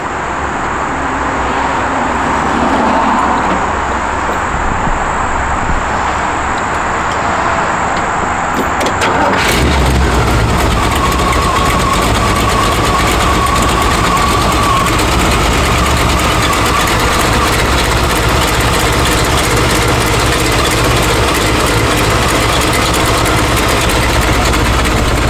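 A 1955 Chevy hot rod engine cranks and fires up after a quiet stretch, then settles into a loud, steady, rumbling idle that continues close by to the end.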